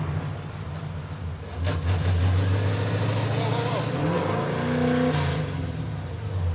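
Car engine racing out of control with the throttle stuck open, likely a stick-shift muscle vehicle in Los Angeles. A steady loud engine roar rises and sustains over several seconds, with people talking over it.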